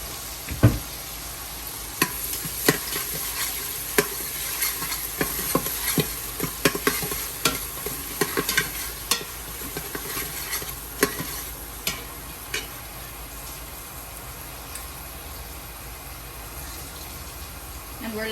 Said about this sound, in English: And we're looking to give this a nice saute, break it down.